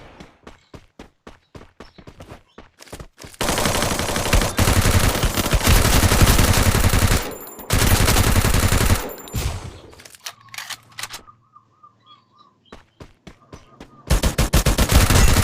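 Video game shooter gunfire comes in rapid automatic bursts, loud and close, between stretches of quick single shots and clicks. The bursts stop and start several times.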